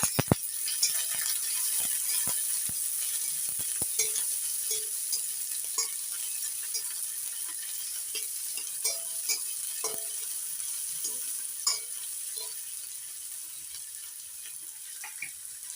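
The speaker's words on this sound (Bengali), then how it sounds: "পেঁয়াজ কুচিগুলো একটু হালকা লালচে করে ভেজে নেব।" Chopped onions fry in a pan with a light, continuous sizzle, broken by scattered clicks and scrapes as they are stirred nearby.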